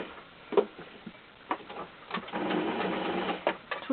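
Sewing machine stitching fabric for an Easter bunny toy, a run of rapid mechanical ticking that settles into a steady whirr, with a few isolated clicks before it, close up.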